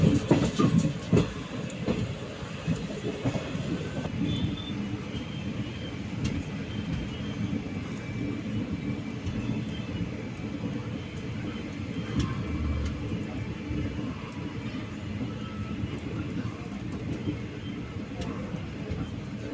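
A Mettupalayam-Thoothukudi biweekly express train runs along the track with a steady, close rumble and rhythmic wheel clatter that continues unbroken throughout.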